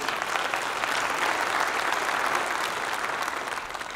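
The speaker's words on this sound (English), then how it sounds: "Somebody give the Lord a hand clap right now" A church congregation claps hands in a steady wash of applause, dense and sustained, fading slightly at the end.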